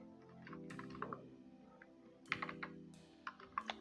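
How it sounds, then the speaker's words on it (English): Scattered bursts of key clicks from typing on a computer keyboard, fairly close but quiet over a steady low hum, with short pauses between the clusters of strokes. "Let me just type it over here."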